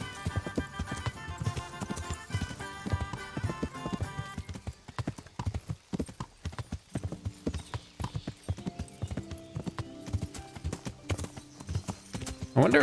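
Horse hooves clip-clop steadily over a game soundtrack in Kingdom Come: Deliverance, with occasional neighs from a horse that is stuck, the hoofbeats close and mixed with music.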